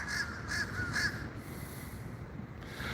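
A crow caws four times in a quick, evenly spaced series in Florida, moderately distant over a steady outdoor hiss, then the calls stop.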